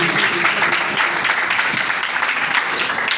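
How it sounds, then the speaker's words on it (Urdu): Loud, dense applause from a church congregation, steady throughout with no break. "اگر کلام کے لیے تو پھر کام زوردار تالیاں بجائیں گے کلام کے لیے"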